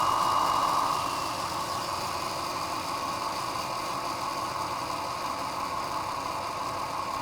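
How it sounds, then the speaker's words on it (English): A model railway locomotive's sound decoder plays its engine coasting, a steady, even mechanical drone with a slightly louder opening second, holding on without talk. "the sound of it coasting in is actually quite nice"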